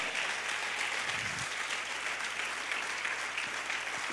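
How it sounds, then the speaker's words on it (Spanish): A congregation claps during a Spanish-language church service, a soft, steady wash of applause heard from a distance, with no voices over it. "yo creo que tú tienes que aplaudir fuerte ese sacrificio de Jesús por ti y por mí en la cruz del Calvario"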